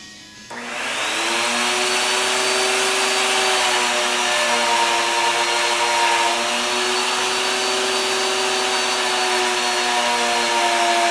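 A router table spins up and runs while cutting wood for a magnetic knife holder, a loud, sustained motor whine with layered harmonic tones that rises quickly and then holds steady and close.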